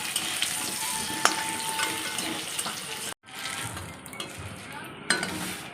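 Chicken pieces drop into a little hot oil in a pan, already used for frying potatoes, for a light chicken curry, giving a steady close sizzle and crackle with stirring scrapes and a brief break partway through.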